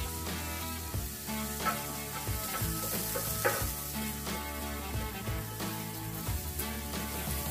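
Beef liver steak fries in olive oil on a plow disc cooker, a steady, dense sizzle with occasional scraping and stirring clinks, close and continuous throughout, with no one speaking.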